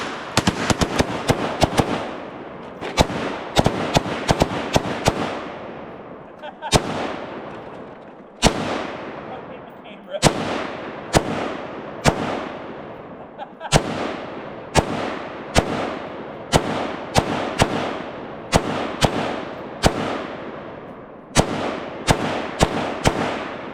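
An AK-47 and an AR-15 rifle fire at the same time at a target, loud close gunshots in rapid overlapping bursts and single cracks, each followed by a decaying outdoor echo, with brief pauses between volleys.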